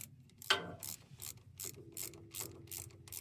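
Ratchet clicking in short repeated bursts while tightening a bolt on the starter of a Kubota L210 tractor, close and fairly quiet with brief pauses between strokes.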